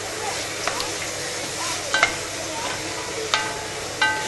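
Lamb shank stirred with mint sauce and garlic in a pan, a soft continuous sizzle with scraping stirs and a few sharp utensil clinks against the pan.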